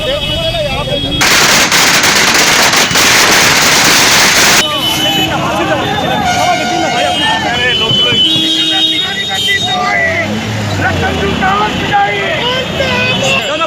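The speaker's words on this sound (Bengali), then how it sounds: "পোড়ানো হলো আতশবাজি" Fireworks go off at a bus stand celebration, with a loud dense burst of crackling explosions early on, followed by scattered pops, traffic noise and people talking nearby.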